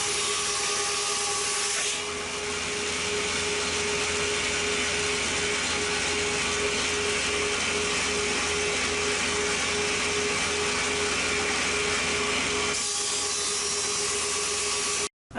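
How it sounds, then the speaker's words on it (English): A thickness planer runs steadily, feeding glued-up wooden boat seat boards (thwarts for an Acorn dinghy) down toward 3/4 inch, a loud continuous broadband machine roar with a constant hum that cuts off abruptly near the end. "I can run them back through my planer to get everything clean to the proper dimensions"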